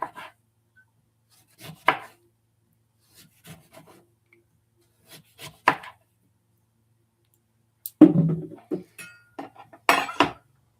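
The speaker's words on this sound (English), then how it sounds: "And then you're just going to finely slice your lemons." A knife finely slices lemons on a wooden board in sparse, crisp cuts, single chops spaced a second or more apart, with a faster cluster of strokes near the end, close and fairly quiet.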